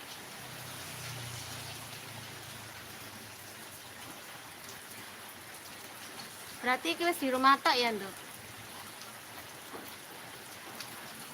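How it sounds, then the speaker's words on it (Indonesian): Steady rain falls in an even, soft wash throughout, with a person speaking briefly partway through over the constant patter. "Kayaknya hujan terus iki."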